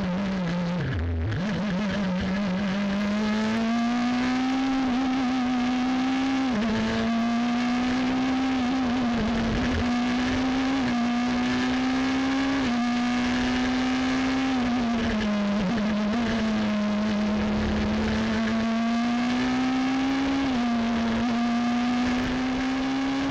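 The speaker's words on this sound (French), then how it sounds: "Vous êtes à bord de la Norma pilotée par Christophe Tardieu" Onboard engine of a Norma race car at the race start at Mugello, a loud continuous drone that rises and falls steadily through gear changes, close and alone throughout.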